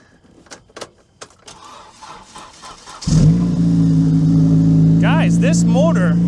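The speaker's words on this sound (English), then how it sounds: "the biggest surprise to me out of everything is the motor on this thing. This thing still runs." A battered 2014 Honda Accord demolition derby car cranks and fires up after some handling noises, then settles into a loud, steady idle with a rough mechanical drone; a voice speaks briefly early on.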